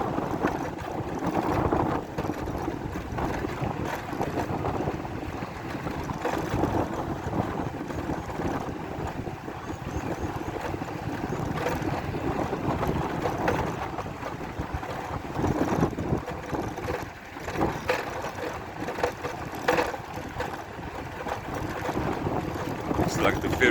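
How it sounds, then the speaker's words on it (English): Steady, loud wind buffets the microphone outdoors during a bumpy ride in Uganda near a ferry crossing, a constant roar with low rumble running unbroken throughout. "Some wind here."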